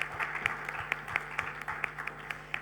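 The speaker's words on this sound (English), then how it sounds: "You have been a tremendous audience, so a big applause for you" Audience applause at an airport aviation event at Cluj Airport, heard as a steady patter of claps with sharper individual hand claps standing out at an even rhythm, moderately loud and fairly close.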